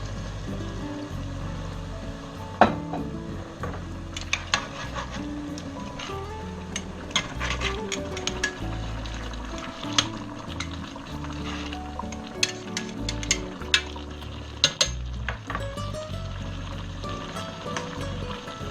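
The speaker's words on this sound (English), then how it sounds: "It's starting to boil already." Red wine and beef broth bubble and sizzle over pork osso buco in a pot, a constant simmering hiss and bubbling broken by occasional clinks and scrapes of a utensil against the pan.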